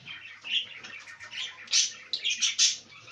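Pet birds feeding in a home cage chirp and tweet in quick, bright bursts, several overlapping calls rising and falling close by, with faint rustling and no talk.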